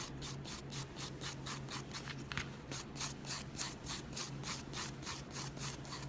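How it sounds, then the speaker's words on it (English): A nail file lightly buffs the surface of a fingernail during prep for a full set, a quiet, close, even rasping in quick regular back-and-forth strokes, with no talking. "I'm very lightly buffing the surface of the nail with my file."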